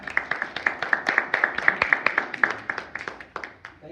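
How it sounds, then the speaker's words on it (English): A small audience at a natural history society meeting claps steadily, a dense patter of hand claps that holds and then thins toward the end, with no voices over it. "let's bring him up with a round of applause"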